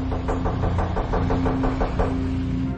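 Rapid, evenly spaced knocking on a door, about a dozen firm raps in a steady rhythm over a constant low mechanical hum, with no voices.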